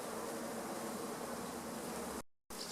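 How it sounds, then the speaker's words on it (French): A honeybee swarm hovers in disarray, the bees unsure where to settle; a dense, steady buzzing hum fills the air up close, broken by a brief dropout near the end. "il y a certaines abeilles là, de l'essaim là, qui savent pas quoi faire, qui savent pas où se mettre"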